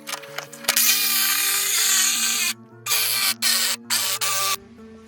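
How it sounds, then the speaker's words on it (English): Cutoff wheel plunging into the sheet-metal roof of a minitruck being turned into a convertible, a loud high whine in several sustained bursts with short gaps between them, and no talking. "now we're getting ready to do a plunger cut with a cutoff wheel to get down into the roof cut"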